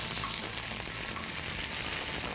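A wahoo fish fillet sears in a hot pan, giving a continuous, close, loud sizzle and crackle of frying with no pauses.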